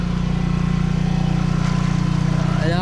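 Vehicle engine running steadily while driving slowly through deep floodwater, a loud continuous low rumble with a faint sloshing texture, no talking.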